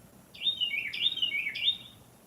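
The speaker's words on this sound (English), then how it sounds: "Oh, hello, bird." A bird perched on a post near its nest gives three clear, bright chirping calls in quick succession, close and distinct against a quiet background.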